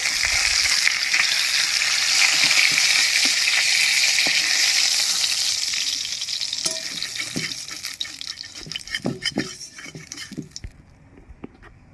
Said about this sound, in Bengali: মাছগুলো আমার লাল লাল করে ভাজা হয়ে গেছে এবার আমি মাছগুলো তুলে নিচ্ছি